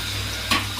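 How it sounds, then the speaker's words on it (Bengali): Capsicum frying in a wok, cut alongside onion for a home-cooked dish, gives a brief close sizzle with a short stirring scrape partway through. "এবার ক্যাপসিকামটা ভেজেছি"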